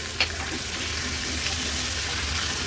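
Carrots and peas sautéing in oil, with turmeric and salt, give a steady broadband sizzle and hiss that carries on without a break, close and moderately loud, with no voices.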